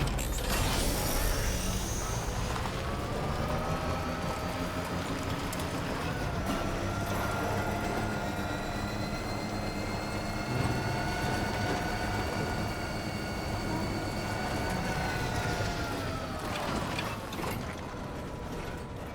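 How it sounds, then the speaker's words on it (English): Monorail train in the video game Death Stranding 2, a continuous mechanical whir with creaking, gear-like ratcheting and a sustained rising and falling tone that carries on steadily. "Oh, trains."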